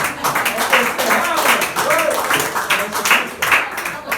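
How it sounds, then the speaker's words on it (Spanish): A church congregation claps in scattered, uneven bursts while voices keep speaking and calling out over and between the applause. "Denle un aplauso a Jesús"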